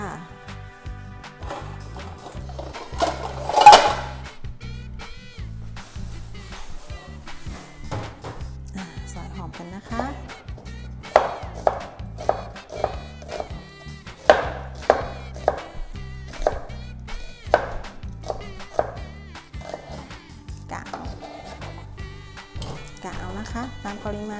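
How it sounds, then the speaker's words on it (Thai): A knife chops fried eggs for a Thai fried-egg salad, making a run of sharp, close taps that speed up in the second half, with someone talking throughout. "จะหั่นไข่ดาวเสร็จเราก็ใส่ในจาน"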